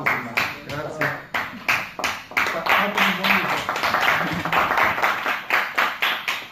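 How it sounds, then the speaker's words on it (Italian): Classroom applause from high-school students after a lesson on a poem, brisk uneven clapping from a small group, close and fairly loud, with a few voices mixed in underneath. "Un applauso, ma grazie."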